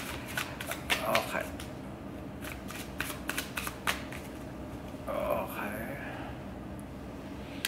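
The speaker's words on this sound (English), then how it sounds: "shuffle it again here, I'm gonna cut it in half" Cards being shuffled close up in several quick riffling bursts, with a brief spoken word and a soft background hum.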